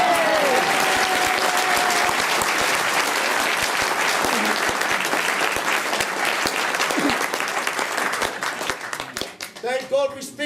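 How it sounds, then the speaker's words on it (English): Sustained audience applause at a Māori village performance, dense and loud for most of the stretch, thinning toward the end as a few voices and whoops come through. "You can clap now."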